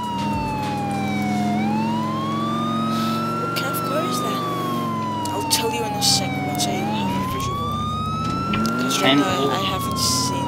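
An ambulance siren in the video game GTA IV wails in long rising and falling sweeps as the vehicle passes nearby, over a steady engine drone with faint game sounds.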